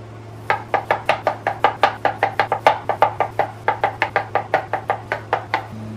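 Tomatoes are chopped with a knife on a cutting board in a quick, even run of roughly thirty close, crisp thuds, with a low steady hum underneath.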